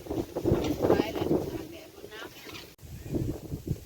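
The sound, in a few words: dry cold wind outdoors in rice field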